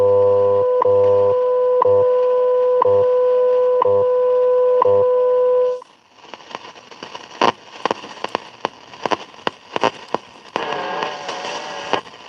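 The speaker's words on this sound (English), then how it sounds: "10 megahertz is booming in right now." Shortwave radio on 10 MHz, first a steady beeping tone pattern for several seconds, then loud crackling static and sharp bursts of interference filling the rest.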